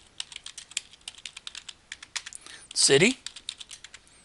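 Rapid keystrokes on a computer keyboard during customer data entry into a form, an uneven patter of close, crisp clicks with a quick burst in the middle and a brief spoken word.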